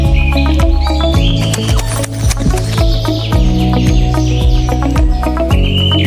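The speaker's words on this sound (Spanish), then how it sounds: "el canto de los pájaros" Birds singing in the Amazon rainforest at dawn, many chirps and tweets overlapping in bright repeated calls above a steady lower musical bed, loud and close.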